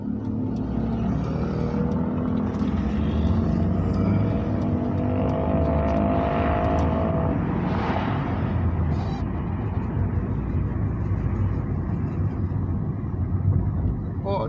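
A car driving out on a sunny day, heard as a steady, loud rumble of engine and road noise throughout, close and continuous, with a voice faintly present in places.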